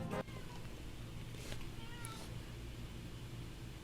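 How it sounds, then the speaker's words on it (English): A cat meows faintly a couple of times over a low background hum, with a short bump at the start. "That's my cat."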